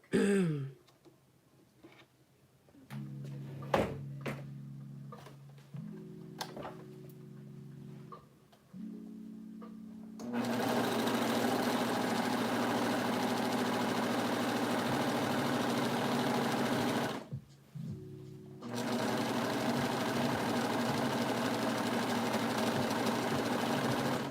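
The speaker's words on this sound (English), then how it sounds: "Let me just serge this real fast." A serger sewing machine overlocking fabric at home runs in two long, loud buzzing bursts, broken by a short pause, after some quieter stop-start motor hums and a clearing throat.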